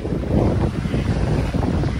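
Loud, continuous rush of wind buffeting the microphone with waves sloshing around a sailboat in the Cyclades, Greece, no voices.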